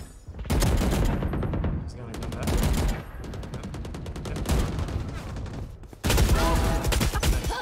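Gunfire in a death match video game: loud, close automatic bursts and rapid volleys come in several clusters with brief lulls between them.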